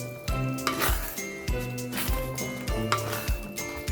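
Mushroom curry is stirred in a pan after water and a pinch of garam masala go in. Soft sizzling runs under repeated scraping strokes, and a spoon clinks against the metal now and then, with no talk.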